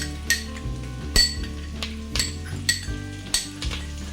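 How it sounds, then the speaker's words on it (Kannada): Ginger garlic paste frying with onions in a pan, a soft steady sizzle broken by repeated metal clinks and scrapes of a spoon against the pan at a roughly regular rhythm, with no speech. "ಈಗ ಇದಕ್ಕೆ ನಾನು ಶುಂಠಿ ಬೆಳ್ಳುಳ್ಳಿ ಪೇಸ್ಟ್ ಹಾಕ್ತಿದ್ದೇನೆ"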